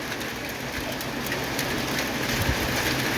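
Heavy evening rain pouring down in a steady dense hiss, loud and unbroken throughout with no voices.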